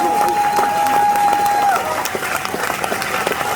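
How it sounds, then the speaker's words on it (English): An audience at a film premiere Q&A breaks into continuous applause and cheering, dense and close, with a thin steady whistle-like tone over the first half. "I want y'all to give the biggest round of applause"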